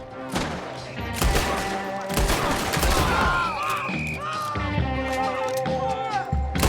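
Gunfire in the Red Dead Redemption II video game, a rapid burst of shots and impacts mixed with game music and effects, loud and continuous over several seconds.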